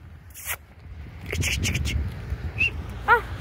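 Outdoors, a dog gives short whimpers and a brief high yelp near the end, set among rustling, scraping and faint voices of people nearby.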